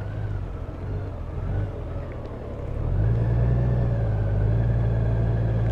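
Honda Goldwing DCT motorcycle engine held under steady throttle on a test ride, a continuous low rumble that swells louder and deeper around the midpoint and stays strong, with no voices.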